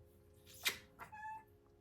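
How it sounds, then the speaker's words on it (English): A house cat gives a single short, faint meow close by, just after a brief sharp knock. "Yeah, you just want to meow."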